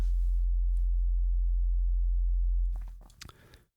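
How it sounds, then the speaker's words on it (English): A wavetable synthesizer in Ableton Live holds a low, steady, dissonant tone that drones loud and unbroken, then fades out and stops, leaving a few faint clicks. "you're just going to get more sort of dissonant type tones"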